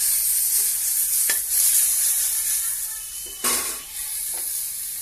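Tomatoes sautéing in a little oil in a pan for a piranda chutney, giving a steady bright sizzle with a few sharp stirring scrapes, loudest near the middle; no voices.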